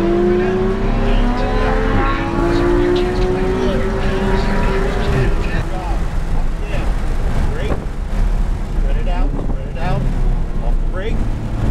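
A supercar accelerates out of a turn on a race track, the engine note rising in pitch through the gears with tire noise, under a driving instructor's close speech.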